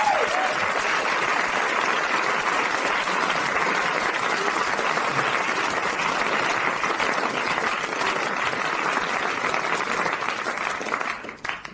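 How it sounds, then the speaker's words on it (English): Studio audience applause on a comedy talk show, dense, steady clapping filling the room at full strength for about eleven seconds before tapering off at the end. "Give a round of applause, Tony Hayes."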